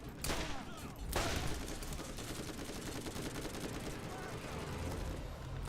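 Rapid automatic SMG or assault rifle fire in the video game Borderlands, a dense, sustained rattle of shots with a couple of sharper bursts near the start, steady and loud throughout.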